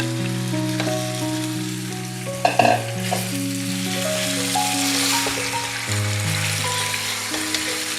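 Chicken pieces fry in hot oil with whole cloves, black peppercorns and black cardamom, giving a steady close sizzle with a few stirring knocks and scrapes, no voices over it.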